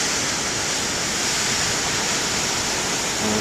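Huge ocean waves break and wash ashore in a dense, loud, continuous roar of surf without pause.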